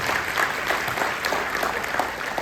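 An audience at a town hall meeting claps in a dense, steady burst of applause that stays even and close throughout.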